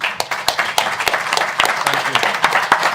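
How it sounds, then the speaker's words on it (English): Audience clapping for a panel at a sports journalism educators conference, a brief scattered round of applause from a modest crowd, with some individual claps standing out and faint voices underneath. "can you put a huge round of applause for our panel?"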